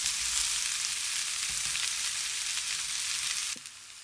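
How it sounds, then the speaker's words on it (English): Kumara (sweet potato) browning in a frying pan, a steady close hiss of frying with faint stirring, fading quieter near the end. "I'm just going to make sure we're turning these kumara regularly."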